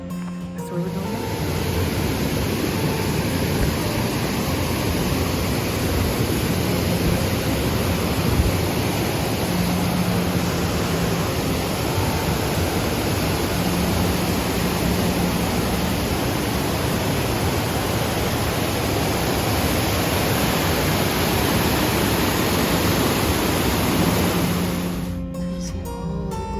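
A waterfall tucked behind a cemetery near a glacier-ringed mountain town pours in a steady, loud, broadband rush that holds unbroken for the whole stretch, then cuts off abruptly at the end.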